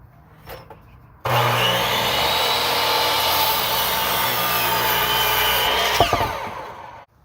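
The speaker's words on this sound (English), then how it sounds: "I'm going to cut all these up here just using my miter saw." A miter saw cuts through 4x4 lumber for a chicken coop base. After a quiet start, a loud, sustained whine and rasp of the blade runs for nearly six seconds, then winds down.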